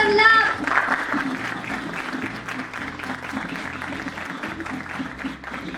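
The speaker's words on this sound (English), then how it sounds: "with a big round of applause, let's show him some love" Applause from an audience welcoming a guest onstage at a professional event, a sustained wash of clapping under a voice at the start and a steady low musical beat throughout.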